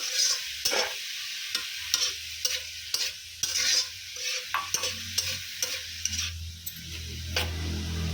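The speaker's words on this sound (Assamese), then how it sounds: "আৰু চাইডত আমাৰ মায়ে চাওমিন বনাই আছে" Chow mein is stir-fried in a hot pan, with a constant sizzling hiss broken by rhythmic metallic scrapes and clacks of the spatula against the pan, close and fairly loud.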